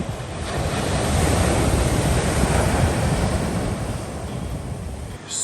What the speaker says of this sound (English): Those are Hawaiian waves.